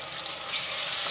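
Chopped onion and garlic fry in a pan for minced meat and capsicum keema, giving a constant bright sizzle and crackle, close and fairly loud, with no talking.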